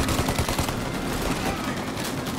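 Rapid, continuous gunfire in the video game Mafia 1, aimed at a car's driver, rattles loud and dense as a sustained burst of close shots over engine noise.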